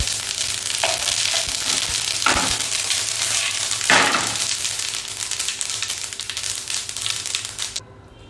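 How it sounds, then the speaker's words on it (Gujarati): Mustard and sesame seeds crackling in hot oil for Gujarati patra, a loud, dense close sizzle with popping bursts and spoon stirring that fades out at the very end, no one speaking. "અડધી ચમચી રાઈ એડ કરીશું. એની સાથે તલ એડ કરીશું."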